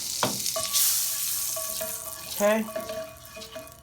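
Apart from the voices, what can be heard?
food frying in a skillet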